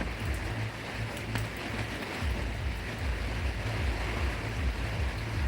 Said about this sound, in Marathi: अतिशय जोराचा वारा